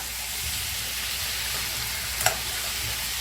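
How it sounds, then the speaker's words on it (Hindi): Prawns fry in hot oil with salt and turmeric, a steady close sizzle and hiss throughout, with a brief clink of a utensil near the end. "बस थोड़ा सा नमक और उसमें हल्दी ऐड करके इसको फ्राई करें।"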